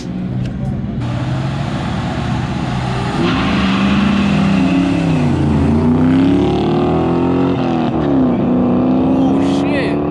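A Fox Body 5.0 Mustang and a Cobra Mustang street race at a car meet, their engines droning loud and close. Revs sweep up and down through gear changes while a crowd talks underneath.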